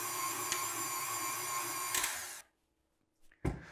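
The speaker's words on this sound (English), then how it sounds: "Then we mix everything to combine all the ingredients together." Electric mixer whirring steadily as it combines cake batter of flour, eggs, sugar, salt and crème fraîche for a lemon pound cake, a loud motor drone that cuts off abruptly, followed by a few brief clatters.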